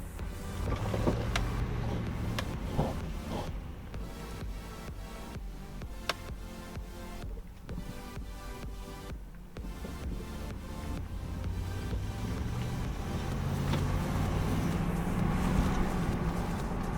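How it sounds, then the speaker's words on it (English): A lifted Jeep on big tires drives steadily, its low engine drone and tire rumble continuous and fairly loud throughout, with small rattles and ticks inside the cab and no one talking. "This is a lifted Jeep with big tires"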